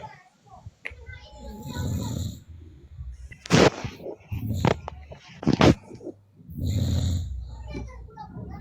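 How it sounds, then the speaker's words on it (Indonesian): A person snores during a live online debate call, with rough rumbling breaths rising and falling in slow cycles, fairly faint and mixed with snorts and voices talking. "Oi, siapa yang ngorok itu?"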